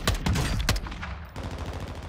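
Full-auto gunfire in Warzone, a quick burst of several sharp shots in the first three quarters of a second, then fading into lower rumbling echo and background game noise.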